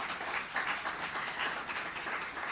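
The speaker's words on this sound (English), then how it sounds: "And we can indeed give them a round of applause." Audience applause at the launch of the 2022 Multiple Indicator Cluster Survey, a dense, even wash of clapping from a sizeable crowd that runs steadily without talk.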